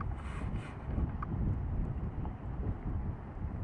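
Gusty wind outdoors in bad weather buffets the microphone, producing a continuous low rumbling roar that stays loud and steady for a few seconds, with no voices.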